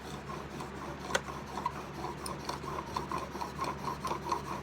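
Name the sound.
steel chisel being rubbed on a cheap sharpening stone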